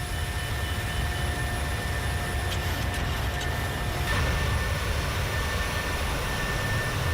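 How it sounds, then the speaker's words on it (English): Boeing 737 airliner in Microsoft Flight Simulator 2020, a steady, moderate jet engine roar with a constant whine on top, heard alone for several seconds with a brief click partway through. "Beautiful aircraft."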